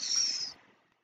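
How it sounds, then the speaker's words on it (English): A plastic water bottle gives a short, bright crinkle up close that lasts about half a second, then fades into quiet room tone. "That was the sound of my water bottle making stupid plastic sounds."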